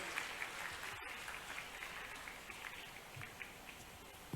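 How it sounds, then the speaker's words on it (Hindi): Faint, distant applause from a large crowd at an Indore public gathering welcoming the chief minister, an even wash of clapping heard from afar with a brief dropout partway through. "जोरदार तालियों से आइए, माननीय मुख्यमंत्री जी का स्वागत करें"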